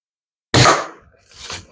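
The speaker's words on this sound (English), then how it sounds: "There's a misfire" A Daisy Red Ryder BB gun from 1998 misfires with a single sharp, close pop, followed by a fainter puff of air about a second later, with no talk.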